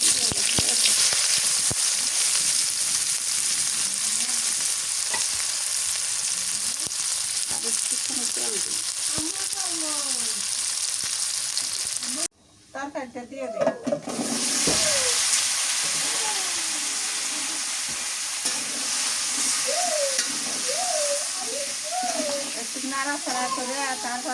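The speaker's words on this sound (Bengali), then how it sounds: "এই তেলের মধ্যে পেঁয়াজ দিই" Onions fry in hot oil with a steady broadband sizzle under intermittent talk, cutting out briefly midway before the crackle resumes.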